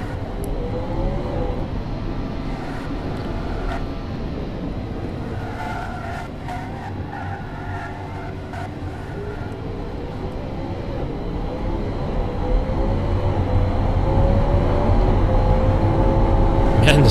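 A racing bus built in the car-design game Automation drones through a lap, its engine holding a steady harmonic roar that climbs and swells louder toward the end, with tyre scrubbing mixed in.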